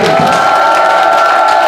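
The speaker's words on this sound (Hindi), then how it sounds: "तो एक बार ताली बजाएंगे अच्छे से" An audience at a gym gathering claps and cheers loudly and steadily, a dense continuous wash of clapping with voices mixed in.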